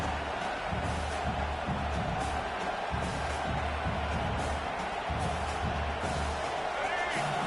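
Stadium crowd in the college football game CFB 26, LSU against Florida in a rivalry matchup, roars steadily throughout as a dense, continuous wash of cheering, with no clear peaks or breaks.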